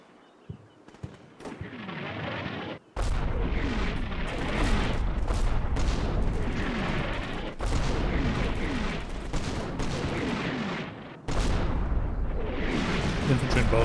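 Artillery barrage in the Combat Mission Shock Force 2 war game: loud, repeated booming impacts and rumbling blasts roll on continuously for over ten seconds, with sharp sudden onsets and no talk over them.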